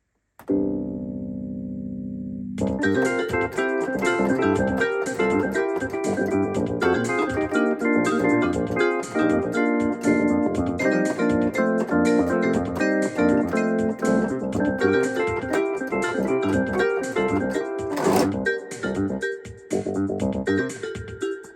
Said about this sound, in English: Let's do an organ sound.